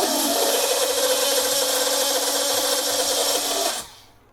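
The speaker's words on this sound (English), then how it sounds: "The end mills are not gonna like to plunge cut, so you're gonna have to kind of force it in." A battery drill fitted with an end mill bit grinds steadily as it is forced into a plunge cut, a loud, continuous close-up whine that holds for several seconds and then stops abruptly.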